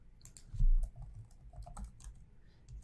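Rapid clicking of keys on a computer keyboard as a home address is typed into an intake form, a steady run of close, crisp keystrokes with no talking.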